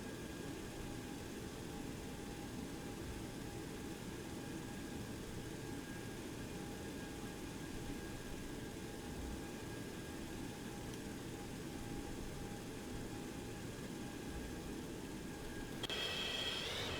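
A FlyJSim Boeing 727 taxiing in a flight simulator: a steady, low engine drone and whine with a constant airy rush, unchanging for the whole stretch, with no talk.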